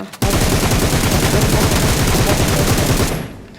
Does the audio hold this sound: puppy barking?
no